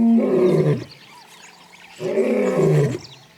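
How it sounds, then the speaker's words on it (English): An adult male lion returning to his territory gives two loud, deep bellowing roars, each about a second long, separated by a short pause, close and with no other voices. "He announces his presence with a bellowing roar, which can be heard for up to 8 kilometers."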